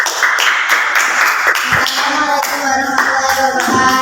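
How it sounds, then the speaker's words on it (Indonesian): A school class claps hands for a group of pupils, a dense, steady run of close, loud claps with voices mixed in underneath. "kasih tepuk tangan untuk kelompok 1."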